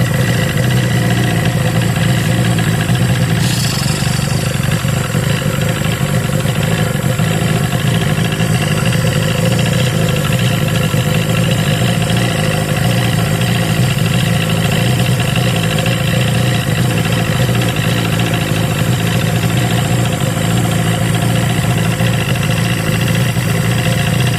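A Force Mercury Mariner two-stroke outboard engine runs on fogging oil, a loud continuous idle with a rough buzzing drone, steady throughout at close range with no talk.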